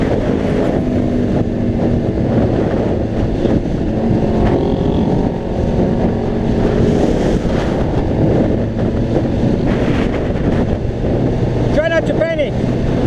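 Heavy wind buffeting a rider on a Honda CBR600RR motorcycle at speed: a loud, continuous roar of rushing air over the engine drone, with a voice speaking through it.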